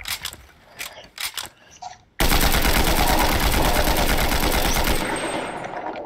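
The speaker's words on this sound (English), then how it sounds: "Well, what are you shooting at?" Rapid automatic gunfire from a video game erupts after a couple of seconds of quieter thumps, a loud continuous machine-gun burst that lasts several seconds before easing slightly.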